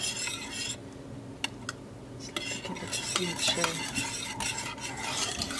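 A spoon scrapes and stirs along the bottom of a pan of trifle custard, giving close, irregular scraping strokes with a few sharp metallic clinks over a soft steady background.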